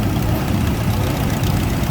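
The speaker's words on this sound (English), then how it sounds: "They finally got that little 60 series standard Oliver going." Oliver 60 series standard tractor engine running steadily at a vintage tractor show, a loud, continuous low rumble close by with no talking.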